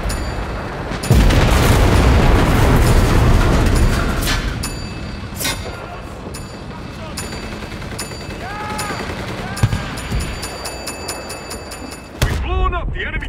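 Battlefield blasts and heavy gunfire in the video game Enlisted as a bomb goes off on an enemy target, a loud booming burst followed by sustained rattling shots and sharp cracks, with voices talking over the combat.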